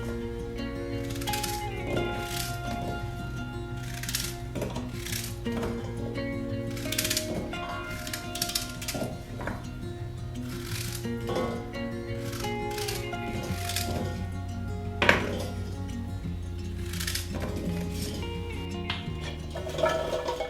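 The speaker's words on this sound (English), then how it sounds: "I'm going to cut those bigger pieces into smaller pieces so they're all pretty uniform" Knife cutting quince into smaller, uniform pieces on a board, a run of sharp irregular chops and taps spread over about twenty seconds, moderately close, with no talking over it.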